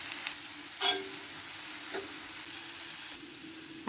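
Masala with turmeric, chili and coriander powder being stirred in a pan for egg roast, a faint steady sizzle with a couple of soft scraping strokes, no talk.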